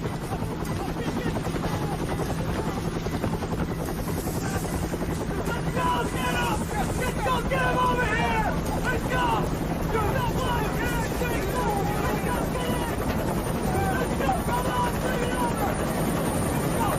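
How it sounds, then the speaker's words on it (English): Military helicopters at an abandoned camp's landing zone during a Vietnam War battle at Lang Vei near Khe Sanh, rotors thudding steadily and loudly throughout, with wind rush and voices mixed in. "The men rushed to choppers parked on the old camp's landing zone."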